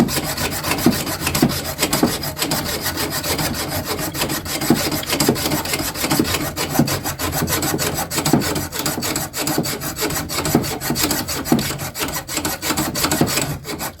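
Threads being scrubbed clean, likely with a wire brush, in a workshop while working on a Peugeot 106, producing a steady, continuous scraping and rasping rub that runs close and fairly loud throughout, with no talking.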